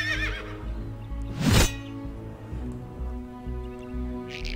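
A horse neighs loudly in the medieval video game CastleStorm while being ridden, a rising whinny standing out over a steady game music bed, with a brief rustle near the end.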